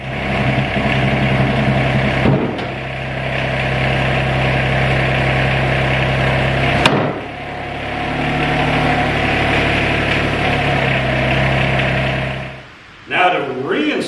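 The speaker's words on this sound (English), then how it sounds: "The next step is start up the tractor, lower it a little bit" A TYM R25 compact tractor engine runs loud and steady as it backs away after its RK25 loader is removed, with low rumbling tones that shift in load, and a voice speaks over it.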